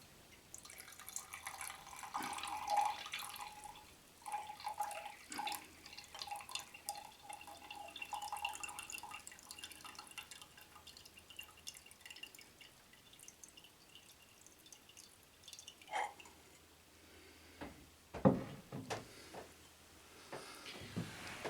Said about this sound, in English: I'm going to pour the water off into a clean jar